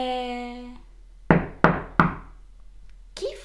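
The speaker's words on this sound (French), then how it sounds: "qui frappe encore à la porte?" Three sharp knocks on a door, spaced about a third of a second apart, loud and close, following a brief sustained tone and ending with a short rustle, no voices.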